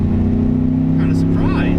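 A 2015 Ford F-150 launches at a drag strip, its engine droning loudly and steadily close by, with a brief rising squeal as the tires spin near the end.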